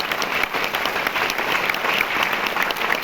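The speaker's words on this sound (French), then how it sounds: "vous pouvez peut-être l'applaudir, ça le fera venir" A cinema audience applauds loudly and steadily at a film presentation of Fargo, the dense, even clapping filling the whole stretch with no voices on top.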